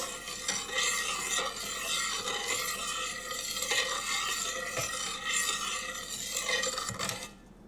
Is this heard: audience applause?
no